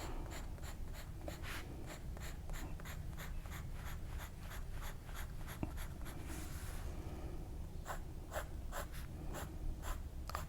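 Pen or pencil crosshatching lines on paper, quick rhythmic back-and-forth scratching strokes, close and faint, continuing steadily with a brief pause midway.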